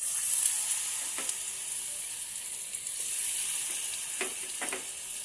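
Bay leaf and black cumin seeds sizzle in hot oil for a potato curry, a steady close crackle with a few sharper pops and stirring scrapes.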